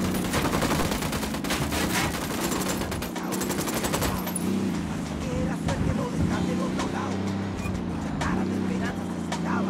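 Rapid automatic gunfire in the video game Ghost Recon Wildlands, bursts crackling over engine rumble and steady background noise, with voices talking over the shooting.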